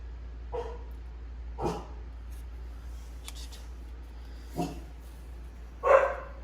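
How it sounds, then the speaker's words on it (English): Several sharp barks from dogs some distance away, spaced out irregularly over a quiet background hum. "Partner dogs barking."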